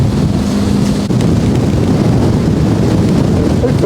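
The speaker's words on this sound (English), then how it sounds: "Hopefully you can hear me over the wind" Strong wind at sea on a boat off Antarctica's Gullet passage, a loud, steady roar buffeting the microphone with deep rumbling and broadband rush, no talking heard.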